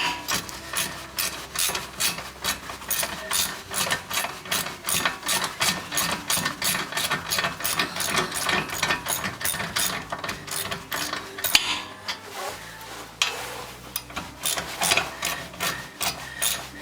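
An undersized Allen wrench backing out brake caliper bolts on a 2014 Ford Fusion rear brake, steady close-up ratcheting and scraping clicks in a quick continuous rhythm, with no talking.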